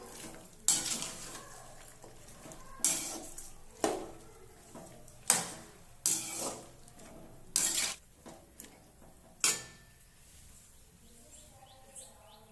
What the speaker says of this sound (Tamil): கொட்டிட்டு நல்லா கலந்து விட்டுடலாம்.